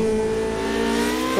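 A Formula Renault race car in a racing video game at Brands Hatch Indy gives a brief, loud, sustained engine whine with a steady pitch, heard alone with no voices.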